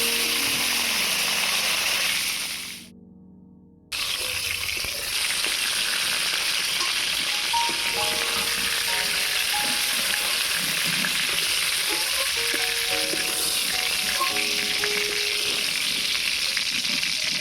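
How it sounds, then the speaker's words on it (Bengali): More pointed gourd (potol) frying in oil, a steady close sizzling hiss that briefly drops out before resuming strongly, with occasional stirring clinks and no speech. "আবারও বাকি পটলগুলো ভেজে নেব।"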